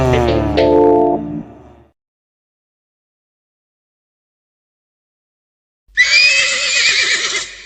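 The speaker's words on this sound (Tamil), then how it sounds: "என் பேரு தான் குதிரை." A horse neighs in a kids' cartoon song, with a loud whinny at the start, a long stretch of silence, and a second shrill, quavering whinny at the end.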